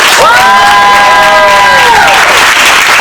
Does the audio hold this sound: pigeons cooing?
no